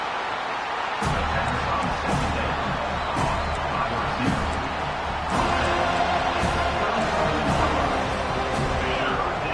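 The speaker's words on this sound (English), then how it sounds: "Decibels rising as the crowd gets behind this defense on 3rd down" A football stadium crowd roars and cheers on a third down, the noise building into a loud wash behind a commentator's voice.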